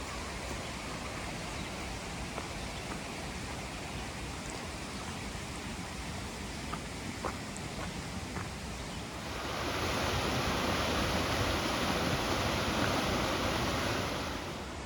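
A river flowing past Big Branch Shelter on the Appalachian Trail, a steady broad rush of moving water that swells noticeably louder and closer partway through, with no voices.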